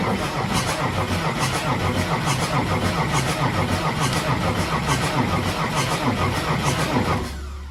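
A Ford 8700 tractor with a 270hp motor cranks and runs in a loud, steady rhythmic chug close by, then drops off sharply near the end.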